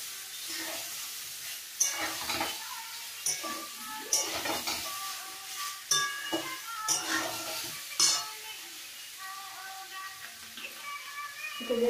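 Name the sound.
stir-frying potatoes, capsicum, tomato in a pan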